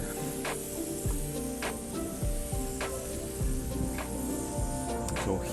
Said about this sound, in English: doing here is spraying what they call a flash coat. So they're just going to spray this down.